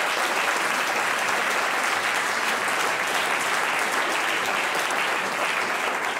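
Sustained applause from an audience at the Grimme Online Award 2024 ceremony: dense, steady clapping that stays loud and even throughout, with no voices heard over it.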